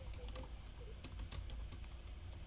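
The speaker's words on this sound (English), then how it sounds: "So let me go ahead and type that in." Steady typing on a computer keyboard, a quick run of soft clicks and taps close by, entering an item for a coffee cafe accounting exercise, with no talk over it.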